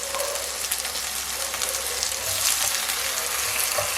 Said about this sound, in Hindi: अल्हम्दुलिल्लाह चिकन के पीसेस अच्छे से फ्राई हो गए हैं